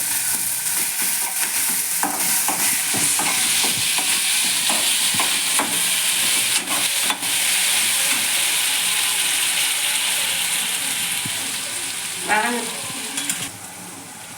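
Tomatoes with ginger garlic paste and salt sautéing in a pan for Tamil-style egg kulambu, a steady loud sizzle and frying hiss with intermittent stirring clinks and scrapes throughout, easing slightly near the end.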